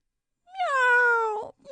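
A single drawn-out cat meow, clear and close, rising then sliding down over about a second against silence, with the start of another cry cut off at the end.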